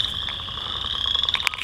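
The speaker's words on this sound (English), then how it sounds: "Lots of frogs in here," Frogs in a protected forest wetland call continuously at close range, a dense, shrill chorus of rapid croaks and trills with no voices over it.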